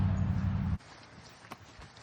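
Horses in a barn shifting about, a dense run of low hoof thuds up close that cuts off abruptly, followed by a quiet stretch with a single faint knock.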